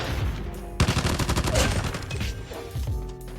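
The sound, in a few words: AGR 556 submachine gun firing in Call of Duty Mobile video game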